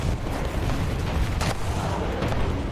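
Tank cannon fire in War Thunder, a couple of sharp booming shots over a constant rumbling engine and battle background.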